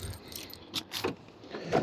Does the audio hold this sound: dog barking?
no